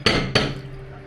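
A bowl is lifted and set back down on a table twice in quick succession, two sharp ceramic clacks with a brief ringing tail, close by and otherwise quiet.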